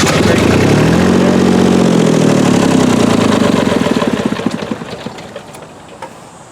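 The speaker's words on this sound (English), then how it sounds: "when your generator is turned on, your fans will start automatically as well" A vehicle-mounted generator runs with a steady, loud mechanical engine drone that holds for about three seconds, then winds down and fades over the remaining seconds as it shuts off.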